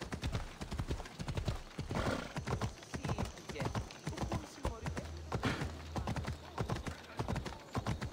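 A horse gallops with rapid, even hoofbeats throughout in Assassin's Creed Odyssey, near and prominent, with brief neighs, while someone talks over most of it.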